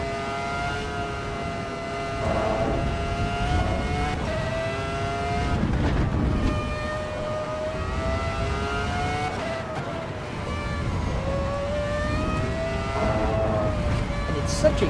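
Ferrari 2004 engine in a racing video game revs and shifts repeatedly, pitch climbing then dropping at each gear change, loud and close, with a voice talking underneath.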